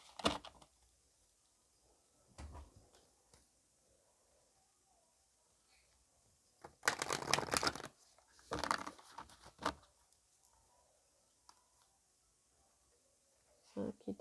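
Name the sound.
shuffling White Light Oracle cards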